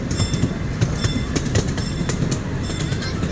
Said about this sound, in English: And now we're coming into the station where we'll be disembarking the train.